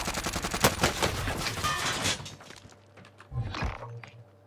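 Warzone gunfire: a run of rapid automatic shots, loud and close for the first two seconds, then a couple of fainter distant shots before it trails off.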